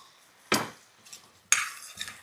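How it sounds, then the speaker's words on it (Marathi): Potatoes being stirred and sautéed in a pan for a black-chili potato curry, with two sharp scraping clatters of a spoon against the pan about a second apart and faint sizzling between them. "एकदा बटाटा टाकले ना ह्याच्यात छान असं परतवून घेऊयात"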